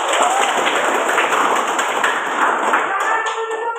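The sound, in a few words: students clapping hands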